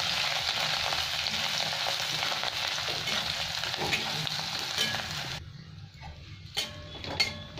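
Steady crackling sizzle of ginger and garlic frying in hot oil until reddish-brown, loud and close, then dropping away to quieter clinks and scrapes near the end.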